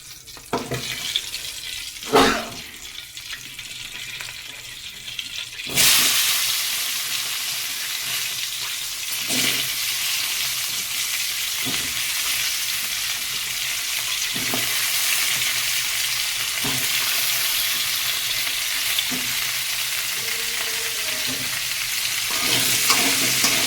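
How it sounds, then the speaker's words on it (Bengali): Whole vegetables fry lightly in a little oil in a pan: a few clattering knocks first, then a loud, sustained, close sizzle with periodic stirring clinks running to the end. "সবজিগুলোকে হালকা করে ভেজে নেব এবারে"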